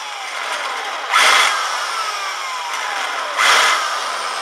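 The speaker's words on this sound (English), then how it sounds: "I'm just going to slightly countersink, so it's basically just take a bigger drill bit" A bigger drill bit countersinks drilled holes in a Yamaha Dragstar exhaust plate, giving two short, loud whirring bursts separated by quieter background noise.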